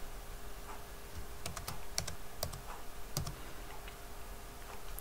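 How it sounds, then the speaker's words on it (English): Keys on a computer keyboard are tapped in short irregular runs of quiet clicks, close by over a steady faint background hum. "you can type in any word you want"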